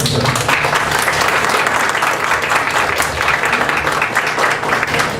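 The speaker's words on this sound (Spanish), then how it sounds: "Le dejo la palabra y un aplauso para nuestra invitada." Loud, sustained audience applause at a keynote conference welcoming a guest speaker at a school; dense clapping from a large crowd, steady from start to finish.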